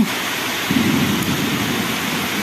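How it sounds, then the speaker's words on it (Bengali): Heavy rain pours steadily as a dense, continuous hiss close by, with a faint low rumble underneath and no voices. "বৃষ্টি প্রচণ্ডভাবে নেমেছে এবং বৃষ্টির শব্দ খুবই ভালো লাগে"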